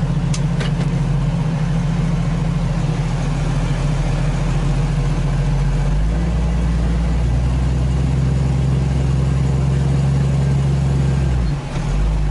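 A Jeep engine runs with a steady low drone as the vehicle creeps over an icy driveway, the rumble close and continuous with a slight shift in pitch midway.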